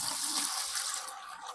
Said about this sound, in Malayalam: ഒഴിക്കട്ടെ, ഇതിലോട്ട് പകർത്തട്ടെ